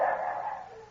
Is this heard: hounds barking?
yes